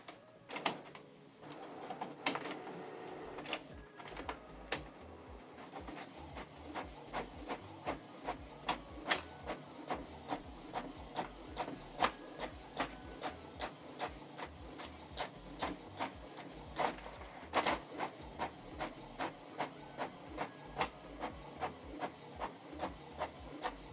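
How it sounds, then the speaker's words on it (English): Canon TS8750 inkjet printer printing a one-sided color document, giving a steady train of rhythmic mechanical clicks and thumps with a soft whirring underneath. It runs continuously at moderate volume, with no voices. "Printing is completed."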